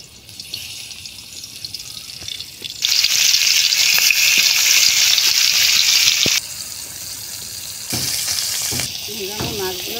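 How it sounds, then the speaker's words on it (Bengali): Fish dropped into hot oil set off a loud, steady sizzle that jumps in volume, eases off, then flares again, with faint kitchen clatter and a brief voice near the end. "আমি তেল দিলাম। মাছ দিয়ে নিলাম।"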